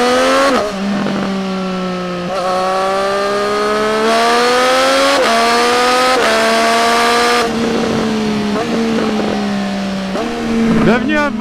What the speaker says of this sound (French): Bienvenue à bord de la Triumph C65 RS de 2021.